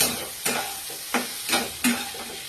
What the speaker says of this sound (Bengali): এটাকে দিয়ে ভালো করে নাড়াচাড়া করে ভাজতে হবে